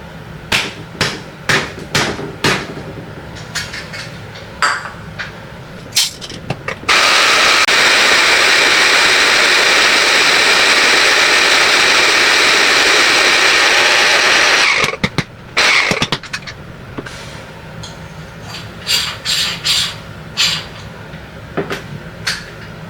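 A JOEPRESSO hand coffee grinder, gears grinding: loud irregular clicks and knocks, then about eight seconds of continuous harsh grinding, then more scattered clicks and knocks.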